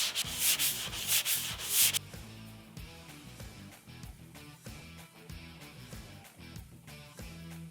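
Hand sanding with 180 grit sandpaper, a steady back-and-forth scratchy rubbing in a regular rhythm, close and fairly loud, heavier strokes at the start and then lighter, quicker passes.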